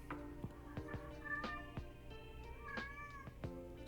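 A needy kitten meows repeatedly indoors, several separate harmonic cries spaced through the moment, fairly close and clear with no talking over them.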